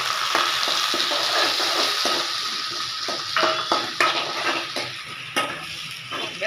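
Onions going into a pan with whole spices for a coconut milk chicken gravy, a steady sizzle with scattered clinks of a spoon against the pan, with no talk.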